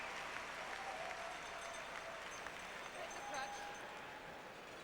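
Spectators at a women's world curling championship semi-final applaud steadily at a distance, a soft crowd clapping that sits under a commentator's voice.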